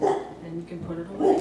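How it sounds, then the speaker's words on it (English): A pet dog barks twice, once at the start and once near the end, close by and partly masked by a person talking. "That's our dog."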